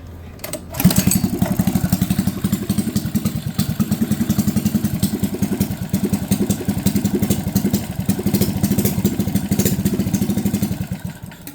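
A Predator 212 engine running on a mini bike catches and settles into a loud, fast, even chugging idle with metallic clatter, close up and continuous, with no talking.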